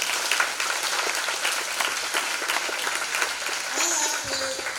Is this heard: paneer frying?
no